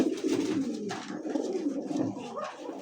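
Pigeons coo close by, soft throaty warbling calls repeating in a low rolling rhythm with no talking.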